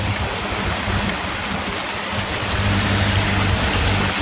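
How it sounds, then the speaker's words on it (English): Big ocean swells heard from a boat at sea make a loud continuous rush of water and wind noise that swells louder toward the end. "Pretty big swells actually."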